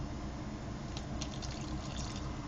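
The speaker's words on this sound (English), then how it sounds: "I just like to fill it up to make sure that they get all the water that they need" Water pours steadily into a rose seed tray, a continuous full gush with small splashing bursts near the end, close and loud throughout.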